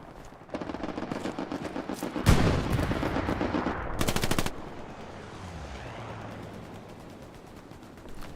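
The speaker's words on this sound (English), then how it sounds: "Strafing run up to the north." Video game gunfire from a strafing run during a Omaha West Vierville event, dense rapid automatic fire with a heavy burst and a loud rattling stretch, fading into a rumbling wash of distant combat noise.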